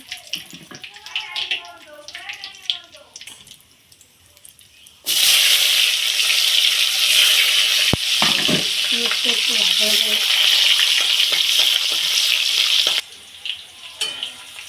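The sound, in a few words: potatoes and whole garam masala frying for meat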